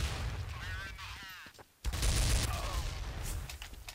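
Sniper rifle fire in the shooter game Counter-Strike: Source, played in a fast Gun Game match. It cracks as a sharp loud shot amid busy game noise and other gunfire, with a player speaking over it.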